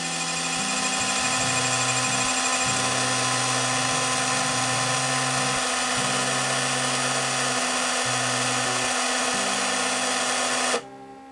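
A Brinsea Mini Advance egg incubator grinds loudly and steadily as its turning mechanism rocks the chicken eggs, a droning motor hum with shifting low tones that cuts off abruptly near the end.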